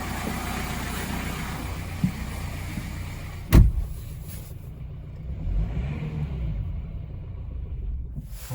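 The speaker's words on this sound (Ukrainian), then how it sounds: "Зараз попробую газанути." A Subaru/Opel 1.7 diesel engine with a faulty fuel pressure regulator idles unevenly with a low, wavering rumble, a sharp thump breaking in as the throttle is blipped, then the engine keeps running rough and fairly close.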